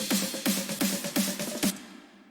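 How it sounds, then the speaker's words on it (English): Drum fill of claps, a reversed swell, a big snare and a reverse clap, a steady run of sharp reverberant hits that ends in a fading tail, fairly quiet with no talking. "I add a fill, which consists of a clap, a reversing, a big snare, and a reverse clap."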